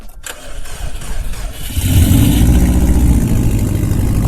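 A car engine cranks briefly, then catches and roars to life after a jump start from a NOCO GB20 portable jump starter, settling into a loud, steady idle close by.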